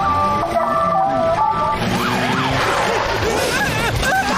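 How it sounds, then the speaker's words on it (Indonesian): A police motorcycle siren wails in an Upin & Ipin cartoon, its rising and falling sweeps loud and close over a busy backdrop of cartoon music and effects. "Tak tahu pun siap bunyi siren dan ada lampu menyala-nyala"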